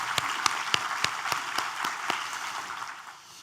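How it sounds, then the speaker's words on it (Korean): A church congregation claps in thanks to God in a large room, with a rhythmic unison beat of loud claps over a continuous wash of applause that gradually fades out. "우리 하나님께 감사의 박수를 드리겠습니다."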